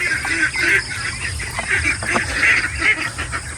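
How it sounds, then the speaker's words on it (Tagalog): Ducks on a farm beside a fish pond, heard as a steady chorus of nasal honking quacks from several birds at moderate distance, continuous and overlapping, with faint background noise. "O, yung itik nandyan na. Nag-aantay na."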